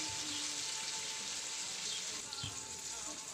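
Bagoong shrimp paste sautés in a pan with a soft, steady sizzle, fairly faint and even throughout, with a faint voice in the background.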